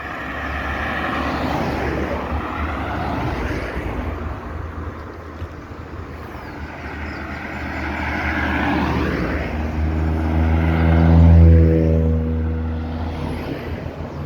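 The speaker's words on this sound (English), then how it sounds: "You can even see a plane passing over." An airplane passing overhead at Gun Hill, St. George, Barbados, a broad engine drone that slowly swells to a peak and then eases, loud and continuous.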